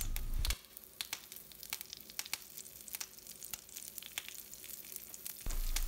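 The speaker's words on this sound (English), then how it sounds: "Fry these dals until it turns light brown. Add 4 curry leaves." Dals and curry leaves frying in oil for a bottle gourd chutney, a close continuous sizzle with many small crackles and pops, a louder rumble at the start and end, no voices.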